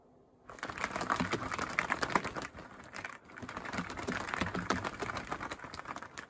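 Foley gloves flapped to imitate bird wings, a rapid fluttering burst that swells, pauses briefly, then flutters again, close and fairly quiet.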